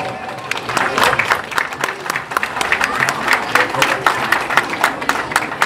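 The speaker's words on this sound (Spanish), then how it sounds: "Fuerte el aplauso para ese tremendo muchacho también" Crowd applause rises at an outdoor jaripeo bull-riding event at a patronal fiesta in Xonocuautla, Puebla: dense, steady clapping from many hands lasting several seconds, with an announcer's voice running over it.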